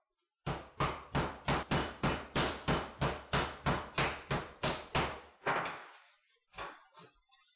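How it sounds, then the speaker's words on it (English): Meat pounded flat with the flat side of a mallet: about fifteen evenly spaced heavy thuds in a fast steady rhythm, close and loud, then a pause and a few final blows. "I'm going to pound this meat, get it stretched out a little bit. And I'm using the flat side of the mallet."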